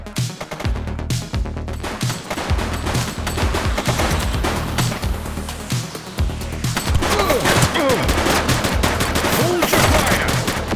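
A gang shootout in the video game The Precinct fills the scene with loud, continuous automatic gunfire and scattered single shots, with a voice shouting briefly over the barrage.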